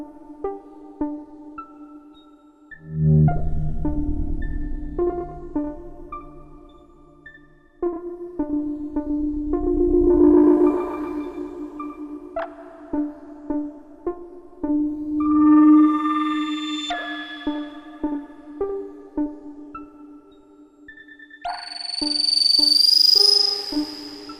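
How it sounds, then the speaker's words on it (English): Erica Synths modular delay patch, slowed down, with two sine LFOs modulating the delayed tone and feedback: plucked synth notes repeating and smearing into wavering, pitch-shifting echoes, swelling into denser bursts and a bright high sweep near the end. "the same patch again, slowed down and with two sine LFOs modulating the delayed tone and feedback"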